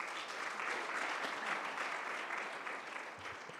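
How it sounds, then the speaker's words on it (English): An audience at a pharmacy students' world congress opening ceremony in Kigali applauds panelists and a moderator, a dense, steady clatter of clapping from a large crowd. "Another big round of applause to the panelists and the moderator."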